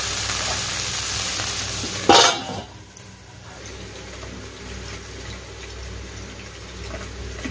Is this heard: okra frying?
yes